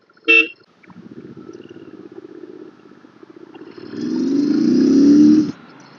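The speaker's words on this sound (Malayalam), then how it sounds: "പിന്നെ ഇതിന്റെ ഹോൺ നല്ലതാണ് കേട്ടോ" A Royal Enfield Interceptor 650 motorcycle gives a short horn toot, then its engine idles with a low, steady throb. Near the end the engine rises into a louder, sustained drone.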